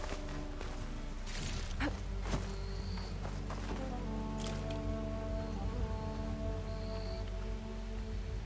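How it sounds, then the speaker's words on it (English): Steady rain patters across surfaces in a video game, a dense, even hiss of drops that carries through the whole stretch, with a few faint tonal game sounds drifting over it and no talking. "There's the rain."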